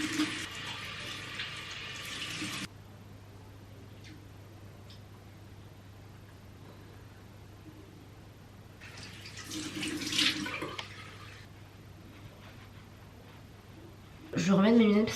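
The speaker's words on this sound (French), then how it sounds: "Je vais me laver les mains et me laver le visage." A bathroom sink tap runs while hands and face are washed, with a brisk stream at the start, a quiet stretch, then renewed splashing and water flow; a voice speaks at moments nearby.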